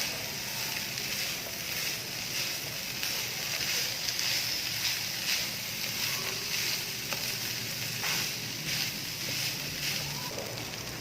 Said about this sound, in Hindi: कचनार ऐड करके 2 मिनट के लिए इसे कीमे के साथ भून लें